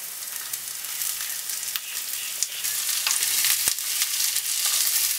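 Onion goes into hot oil in a pan for a crab roast, setting off a loud, continuous, crackling sizzle close by, with a few small clicks from the pan throughout.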